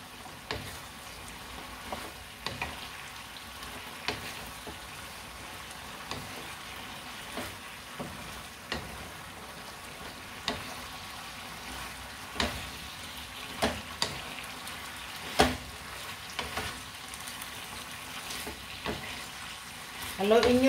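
String beans for adobong sitaw cook in a pan under a low, steady sizzle, with regular scraping stirs every second or two and a clatter near the end; brief speech may come through faintly.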